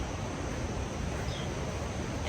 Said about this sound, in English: That is the sound of the river.